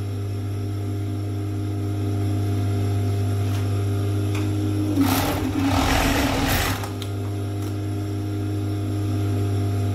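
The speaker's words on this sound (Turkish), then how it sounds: "Halka şeklinde kol ağızlarını da dikiyorum." A three-thread overlock sewing machine stitches ring-shaped rib-knit cuffs onto the sleeves of a toddler's tracksuit. A steady mechanical hum runs throughout and swells into a louder burst of stitching near the middle.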